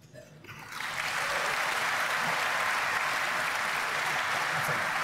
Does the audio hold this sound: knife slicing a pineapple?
no